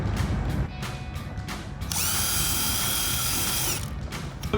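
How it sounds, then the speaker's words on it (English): A power drill with a 3/16 drill bit bores a hole during a spoiler install on a 2015-2023 Dodge Charger, opening with short ratcheting bursts and then a steady high whine for about two seconds before it stops. "I'm using a 3/16 drill bit."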